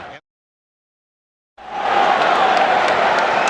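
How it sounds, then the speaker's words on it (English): Loud, dense roar of a sellout crowd filling Chicago Stadium during the 1993 NBA Finals between the Bulls and Suns, rising abruptly after a short silence and holding steady. "Welcome back to Chicago Stadium, the usual sellout crowd on hand"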